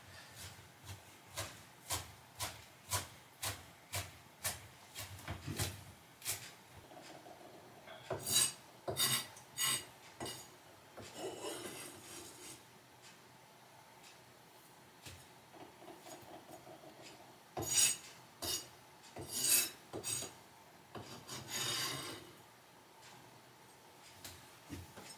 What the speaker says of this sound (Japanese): 適当にザクザクザク、で、あとはひたすらみじん切りに